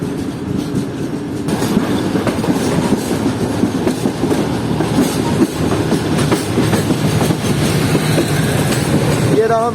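Millat Express with its HGMU 30 locomotive 8217 attached at the rear rolls past on the rails, a loud, continuous rumble with steady clickety-clack of wagon wheels throughout and a brief squeal near the end.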